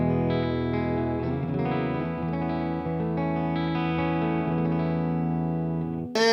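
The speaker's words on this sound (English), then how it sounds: "Our solid state amp is the Boss Katana Artist behind me." Electric guitar played clean through a Boss Katana Artist solid-state amp, sustained chords ringing steadily and fairly loud with no talking, close and full, ending abruptly.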